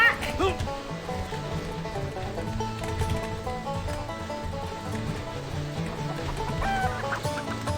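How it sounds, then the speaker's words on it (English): Chickens clucking in the game Redneck Rampage: repeated bursts of clucking from the start of a busy, noisy game scene, with no talk. "Hello, chicken."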